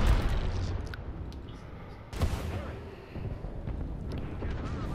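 Gibraltar's ultimate bombardment in Apex Legends erupts in a dense, rumbling barrage of heavy explosions, loud and sustained with a fresh blast partway through, while a voice talks under the din.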